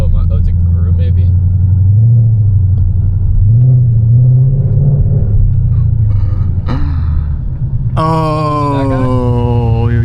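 Catless, fully straight-piped Ford Mustang GT driven hard, a loud, close, deep exhaust rumble that rises and falls with the revs, then jumps to a high rising engine howl near the end. A person talks over it.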